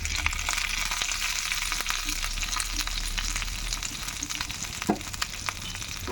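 Vegetarian fish-fry mixture frying in hot oil, a steady dense sizzle and crackle that holds at an even loudness throughout, with a few faint stirring scrapes and one brief utensil knock near the end.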